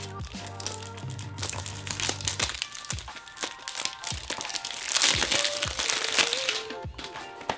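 Crinkly cellophane wrap is peeled off a Vince Camuto Homme men's fragrance box, a close run of sharp crackles and crunches that comes in bursts and then thins out as the film pulls free.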